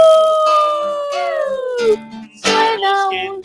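A child imitates a wolf howl with a long, slowly falling wavering cry, then a second, shorter howl after a brief breathy pause, close and clear.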